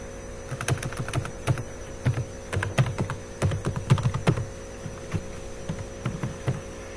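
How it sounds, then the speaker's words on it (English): Fast typing on a computer keyboard, irregular bursts of clicky keystrokes close up over a steady low electrical hum, no talking. "I will type Toyota"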